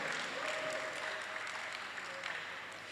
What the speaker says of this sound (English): can we have a big round of applause and thank you once again for Samratulangi University